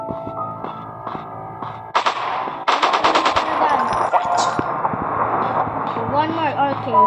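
Rapid automatic gunfire from a zombie shooting video game, loud bursts of machine-gun fire over a humming background, with a player talking intermittently.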